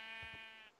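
A sheep in Minecraft gives one short bleat, a brief buzzy tone lasting under a second, close and clear with nothing else around it.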